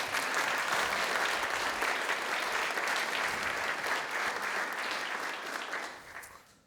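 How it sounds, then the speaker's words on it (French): Sustained applause from a conference audience after a talk, dense and steady clapping filling the room, then fading out toward the end. "Alors merci beaucoup Corentin Dugas, on peut l'applaudir."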